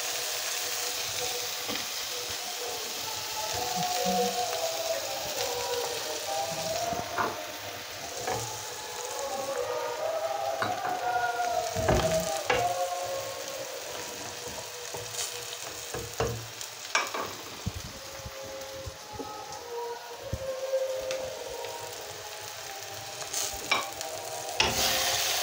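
Garlic and parsley frying in a pan, a continuous close sizzle with scattered clicks and scrapes of a utensil stirring, running for the whole stretch without speech.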